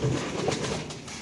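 Fancy pigeons at a large pigeon farm coo softly and continuously, several birds close by with low throaty murmurs layered over a steady ambient background.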